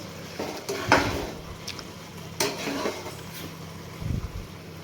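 A pot lid is lifted and mint rice is stirred in the pot, heard as a few soft metallic clinks and scrapes against quiet kitchen background, with no talking.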